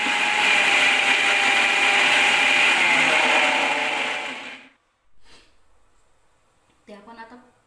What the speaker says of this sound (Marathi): आणि हे मिक्सरला लावून घ्यायचं.